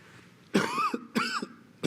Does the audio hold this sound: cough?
yes